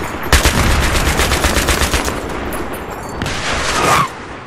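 Rapid bursts of gunfire crack loudly in Battlefield 1 multiplayer Conquest, a fast rattling string of shots followed by further volleys and a rising whoosh, with little talk over it.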